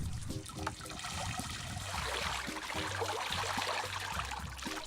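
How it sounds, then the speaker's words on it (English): Liquid trickling and draining steadily through the grating of an EnviroChannel iG drainage channel, a continuous close watery dribble with light splashing and no voices. "the liquid is drained away"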